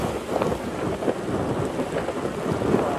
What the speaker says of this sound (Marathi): आता पाऊस चालू आला आहे